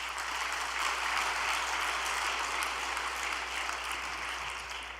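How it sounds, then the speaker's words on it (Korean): An audience claps together in a sustained burst of applause, an even, dense patter of many hands at steady loudness for several seconds. "여러분 박수 한번 보내줍시다"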